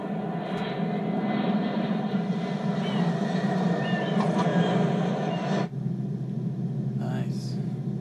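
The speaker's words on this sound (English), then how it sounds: "this plane crashes." A propeller airplane drones steadily in the opening cutscene of Super Mario Sunshine, a loud, continuous engine roar with a rumbling low end that drops in level near the end, followed by brief faint sounds.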